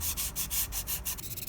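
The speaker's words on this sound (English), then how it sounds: "this is just a stirrer stick that I've just glued some sanding paper" Hand sanding the edges of a solid wood sign with sandpaper glued to a stirrer stick, a quick rhythmic series of close, scratchy back-and-forth rubbing strokes.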